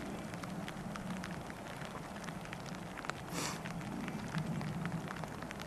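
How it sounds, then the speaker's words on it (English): Light drizzle on the John Muir Trail near Selden Pass, a faint, steady patter of scattered small drops against a soft hiss, quiet and continuous throughout. "Just drizzling all morning."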